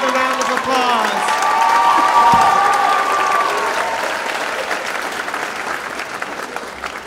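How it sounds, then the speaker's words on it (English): A crowd at a high school graduation ceremony applauds steadily, the loud clapping mixed with some cheering and slowly fading over several seconds. "Give her another round of applause."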